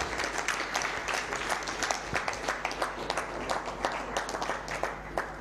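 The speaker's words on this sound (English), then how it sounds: "let's give it a round of applause" Applause from an audience at a televised talk show on ending child labour as a minister signs, a steady wash of clapping with sharp claps standing out, lasting throughout.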